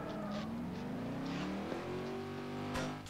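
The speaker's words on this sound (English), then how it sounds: "Alright, get in the car and drive out." A car in Garry's Mod pulls away, its engine note rising steadily with some tire squeal, close and continuous over about three seconds.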